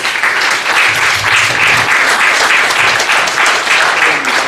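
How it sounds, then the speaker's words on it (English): Loud, sustained applause from a comedy club crowd at a roast in Richmond, Virginia, steady clapping in rolling waves with no break. "Give him a round of applause."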